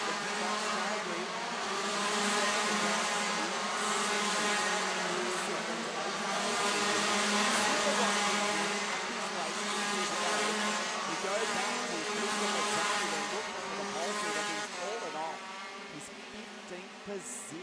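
Shifter karts race in the 2018 Rok Cup International Final, a continuous loud engine drone that swells and fades as they pass, with a commentator talking over it.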